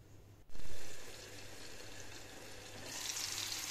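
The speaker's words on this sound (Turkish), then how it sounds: "Soğanlarımız biraz yağda kavruldu." Onions frying in oil in a covered pan, a sudden loud sizzle as they hit the heat, then a steady crackling hiss that swells again near the end; no one speaks.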